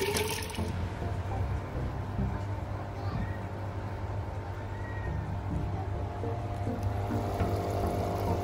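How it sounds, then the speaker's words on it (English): Water pouring steadily into a home fish tank, a continuous wash of splashing and trickling that runs throughout at moderate level, with faint background sounds but no clear talk. "Time to add more water."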